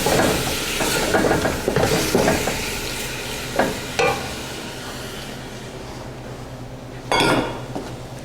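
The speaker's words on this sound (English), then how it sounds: "We're going to get these nice green chilies in here. A lot of flavor there. We're just going to give that a little stir." Green chilies fry in a pot and get stirred, giving a continuous sizzle with scraping utensil strokes and a few metallic knocks, close and steady, with no voices.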